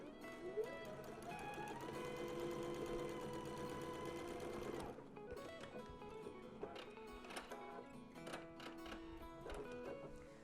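A sewing machine runs steadily for about five seconds, stitching a diagonal bias seam corner to corner on a small fabric bag, then stops, and light handling clicks and fabric rustle follow.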